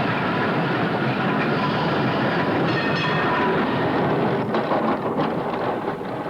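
An electric tram runs on its rails through a New Zealand town, a loud, steady rumble with rattling wheel noise throughout and no voices.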